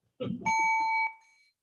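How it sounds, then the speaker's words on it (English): A small hand bell rings once with a bright, sustained tone that fades over about a second, following a brief murmur of a voice. "This little bell."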